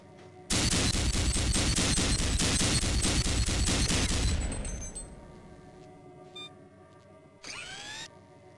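A weapon in the Gunman Chronicles training course fires at a target in a loud, rapid, sustained burst for about four seconds, then stops. Brief mechanical whirs and clicks follow, with a short rising whine near the end.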